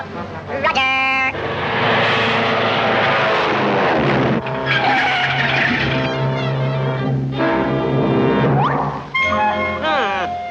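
A cartoon airplane engine from a 1944 Woody Woodpecker short drones loud and close as the plane heads for a crash landing. Whining, shifting engine tones mix with music and sound effects throughout.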